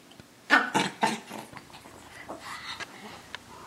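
A dog growls in several close, gruff bursts at first, then trails off into softer grumbling and snuffling noises, heard alone without talk.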